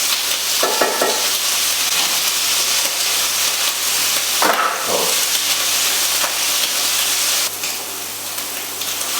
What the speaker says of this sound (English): just render our bacon down